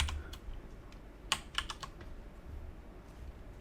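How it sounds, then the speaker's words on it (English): Keystrokes on a computer keyboard come in an uneven run of light clicks, with a couple of sharper taps in the middle, fairly close and quiet against low background hum. "I was typing output, not sure why."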